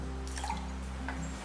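Water poured onto jaggery for Ashoka halwa, a soft trickling and dripping over a steady low background hum.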